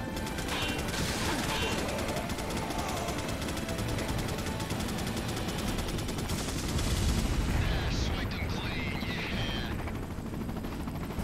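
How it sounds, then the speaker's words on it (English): A helicopter turret fires in Resident Evil 4, a dense, loud, unbroken barrage of rapid shots over a rotor drone, with voices mixed in. "I hear you shooting, but I don't see you hitting"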